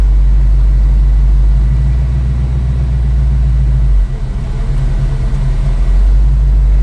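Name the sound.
V8 car engine with Flowmaster exhaust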